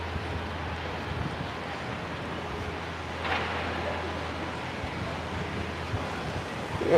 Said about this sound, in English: My gosh, it is breezy right now.